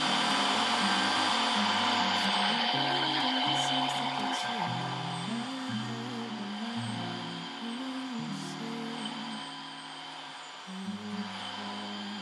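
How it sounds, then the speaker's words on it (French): A Tineco Floor One S5 Combo wet-dry vacuum drones steadily and loudly throughout, its motor pitch wavering and shifting as it works across a floor stain. "je vais voir si l'aspirateur marche aussi sur les taches incrustées"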